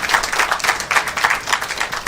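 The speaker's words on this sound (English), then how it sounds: "Let's give her a round of applause." Audience applause for a graphics artist who created a book cover, at a book launch and signing event; steady dense clapping from a small crowd, fairly close and continuous throughout.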